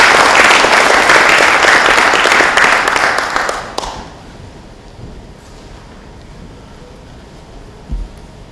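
An audience applauds to welcome the Finnish minister on stage at an inauguration event, a full round of clapping that holds steady for several seconds, then dies away quickly into a quiet room with one soft thump.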